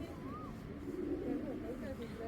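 A pigeon of an old breed with all-black tail feathers coos softly in low, rolling phrases, with chirps from other birds and a speaking voice nearby.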